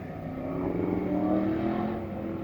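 A Classic Muscle Pro race car at an NMCA event pulls away on a lap with a brief, rising engine drone heard at moderate distance over two seconds.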